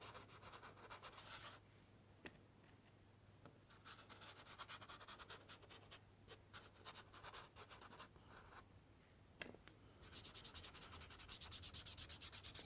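Pastel rubbed along paper to draw a tree trunk in a woodland drawing, a quiet scratchy rubbing in repeated strokes, fading in and out and then growing denser toward the end.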